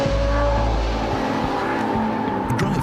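Ferrari F50 driven hard at the limit on track, its engine howling at speed with tire squeal and a rushing roar as the car passes close by.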